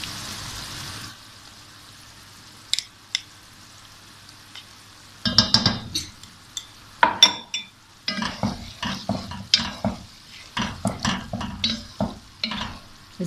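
Yogurt being stirred into frying chicken and vegetables for biryani. A faint sizzle and a quiet lull give way to close, clattering spoon scrapes and clinks against the pot in an uneven rhythm.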